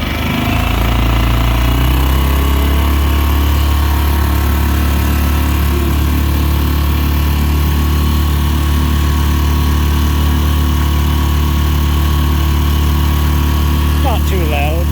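Mercury 2.5 hp outboard motor on a small boat running flat out at full throttle, a loud, steady, buzzing drone that holds for the whole stretch with no letup.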